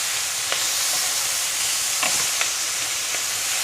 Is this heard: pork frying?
yes